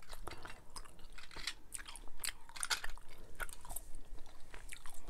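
Bubble gum chewed close to the microphone in ASMR style, with wet, sticky smacks and squishes repeating in an uneven rhythm.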